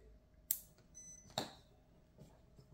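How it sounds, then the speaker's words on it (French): A short, thin electronic beep from an RC car motor speed controller, with a clean tonal pitch, quiet and close, between two sharp clicks in an otherwise still room. "Le moteur, il a sonné, il a fait un bip."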